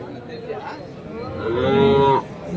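A single long, loud moo from a nearby cow at a cattle market in Kelamangalam, rising and holding before cutting off, over a low background murmur.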